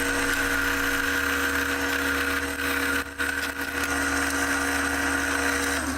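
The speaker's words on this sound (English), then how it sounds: "let's drill a lanyard hole" Electric drill steadily boring a lanyard hole through a ferro rod handle turned on a mini lathe, a continuous loud whirring hum with a brief dip midway.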